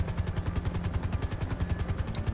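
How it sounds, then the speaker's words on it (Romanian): A helicopter flies in GTA 5, a loud, steady rotor chop pulsing rapidly and evenly throughout, with no talk over it. "Zburăm cu elicopterul."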